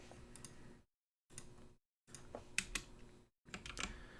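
Typing on a computer keyboard in bursts of rapid clicks, separated by short silent gaps and ending with a firmer keypress like Enter; close and clear, with no talking.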